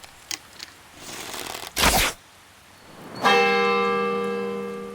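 A bell struck by an arrow: a brief whoosh and thud, then a loud, bright metallic ring that sustains and slowly decays, alone without talk.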